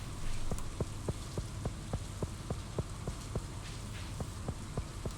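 Steady rain patters in the video game Stardew Valley, a constant soft hiss overlaid with evenly spaced light ticking steps.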